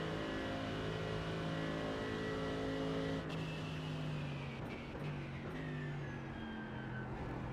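A race car engine drones in the iRacing simulator at Spa during a 24-hour race, holding a steady, loud, layered hum with small shifts in pitch as the car rolls smoothly through a corner.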